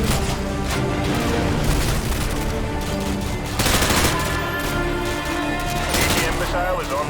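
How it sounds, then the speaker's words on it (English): AGM missile strikes hit in Call of Duty: Modern Warfare 2: dense, continuous battle noise with repeated heavy booms and bursts of gunfire. Two louder impact surges stand out, and the whole stretch is loud and sustained. "Arming AGMs, stand"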